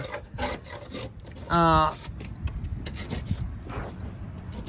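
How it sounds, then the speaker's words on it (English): A metal scraper rasps against the underside of a John Deere Z540M mower deck in repeated rough strokes, close and gritty, with one brief louder buzzing tone partway through and a voice briefly audible. "Now, most people, you gotta scrape these decks."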